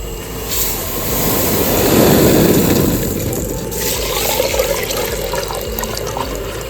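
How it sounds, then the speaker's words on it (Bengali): Lentils being washed by hand in water, a steady sloshing and scraping swirl that swells in the first seconds and then settles into continuous rinsing, close and loud with no voices. "ডালটা আমি ভালো করে ধুয়ে নিচ্ছি।"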